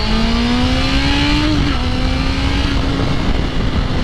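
A 4-cylinder 650 motorcycle engine revs loudly and close, its pitch climbing smoothly, then easing slightly and holding at a steady high whine with no talking.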